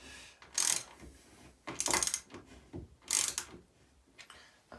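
Bolts being tightened on a Miele W916 washing machine, three separate bursts of clicking, ratcheting turns with short quiet gaps between them, close and fairly soft.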